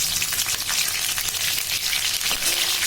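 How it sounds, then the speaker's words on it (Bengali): Panch phoron spices and dried red chillies fry in hot oil with a steady, dense sizzle, close and continuous with faint stirring and no voices. "ভিতরে আমি দিয়ে দেব পাঁচফোড়ন ও শুকনো লঙ্কা দিয়ে এটা হালকা ভাজতে হবে"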